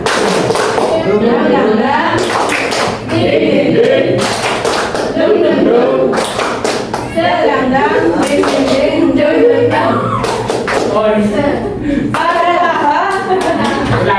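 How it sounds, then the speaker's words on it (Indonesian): Schoolchildren perform a rhythmic spirit clap in a classroom, loud sharp claps in patterned bursts repeated several times, with chanting voices between and over the claps. "Tepuk semangat."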